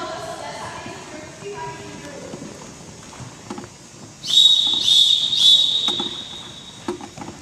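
A whistle blown during a tinikling dance lesson with children running around, sounding as a sustained shrill tone for about two seconds amid background chatter and movement noise.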